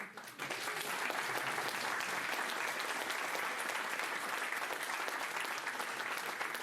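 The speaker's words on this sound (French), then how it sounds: "je demande à la salle de t'applaudir fortement" Sustained audience applause fills a conference hall after a speaker's request, a dense steady wash of clapping that starts abruptly and holds at a constant loud level throughout.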